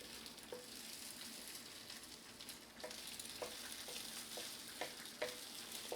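Egg batter for an omelet sizzles and fries in a pan as a steady, faint hiss, with several soft scraping or tapping sounds scattered through the second half.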